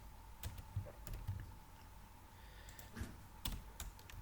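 Computer keyboard typing while a nested loop is coded, with faint, irregular bursts of key clicks and pauses between them and no talking.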